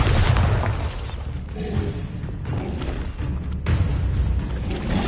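A Bombarda spell explodes in the video game Hogwarts Legacy, a heavy booming blast with rumbling low-end debris that stays loud and dense for several seconds with further thuds and impacts, no voices over it.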